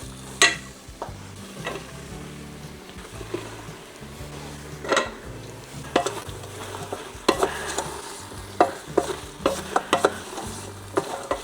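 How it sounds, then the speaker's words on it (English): Mushrooms for a creamy mushroom soup go into a spiced pan and are stirred, giving close scraping and clanking of a utensil against the pan over a low sizzle, with irregular louder knocks. "Give it a good mix. And we add the mushroom."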